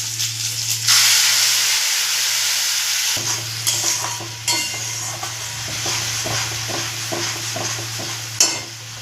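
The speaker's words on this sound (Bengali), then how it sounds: "এবার আমি যা পেস্ট করলাম পেঁয়াজ টমেটো আর ধনে পাতা, এই পেস্টটা আমি দিয়ে দেবো।" A paste of onion, tomato and coriander leaves hits hot oil with a loud, steady sizzle and hiss, stirred with scraping sounds, plus a low steady hum underneath throughout.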